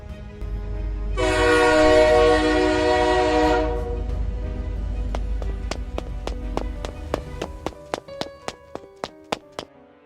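A loud train horn blares for a few seconds over a deep rumble at a deserted forest station, then fades as rhythmic clacking of wheels over rail joints speeds up.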